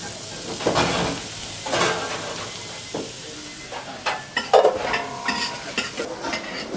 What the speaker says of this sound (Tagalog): Lagay ko yung bacon.